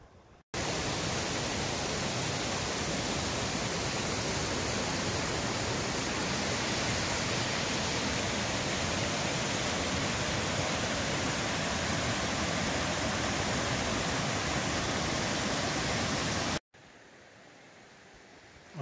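Waterfall beside a canoe portage on a river in Algonquin Park, a continuous broadband roar of rushing water, loud and steady for most of the time before cutting off to a quieter background near the end.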